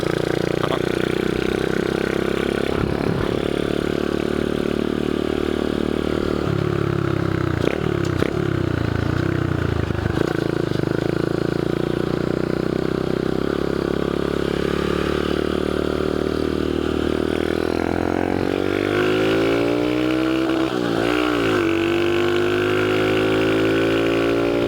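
A Honda Dax 125cc Toro motorcycle being ridden, engine droning steadily and close, revving and shifting pitch through gear changes, rising in speed toward the end.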